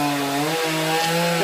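A chainsaw cuts through a palm tree, its engine holding a steady, loud buzzing whine with a slight pitch dip midway, close and uninterrupted.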